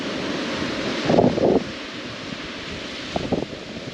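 Steady wind rushes over a glassy sea around a fishing boat, a broad, constant noise with a couple of brief louder bursts partway through.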